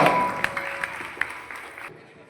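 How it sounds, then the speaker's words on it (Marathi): A crowd at a Shivaji Maharaj Jayanti celebration claps, short scattered applause that fades out, with a sustained tone beneath. "जोरदार टाळ्या वाजवा"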